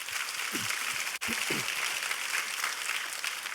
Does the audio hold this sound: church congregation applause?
yes